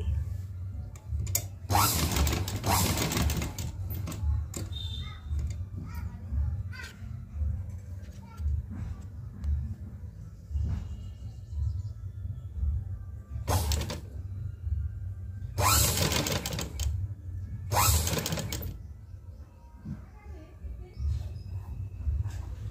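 A sewing machine stitching cutwork scallops on a blouse makes bursts of fast, rhythmic mechanical whirring between stretches of steady motor hum, close by, while someone talks over it.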